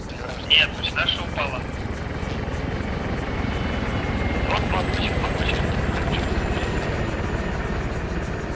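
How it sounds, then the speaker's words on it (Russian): Helicopter approaching in the video game ArmA 3, a steady rotor drone building slightly in loudness, with players talking over it. "К вам два верта идет."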